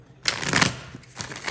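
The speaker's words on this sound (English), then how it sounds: "I know how loud the shuffling can get." A brief, close riffle of tarot cards being shuffled, a quick rustling burst that fades into a softer flutter.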